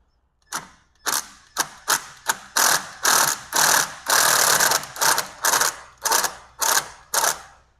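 Ratchet wrench loosening a bolt on a Mazda B2200 engine, about a dozen loud close bursts of rapid clicking, each a short swing with brief pauses between, some longer strokes midway, no speech.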